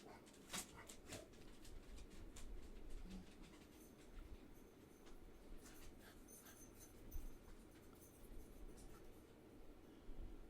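Dogs barking at a distance outside a home painting studio, faint and intermittent, with scattered yelps and whimpers over a low background hum.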